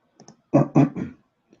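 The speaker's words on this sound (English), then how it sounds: "I'm typing in Arabic." A quick burst of clicking keys: a couple of light taps, then three louder clustered clacks, and one faint final tap.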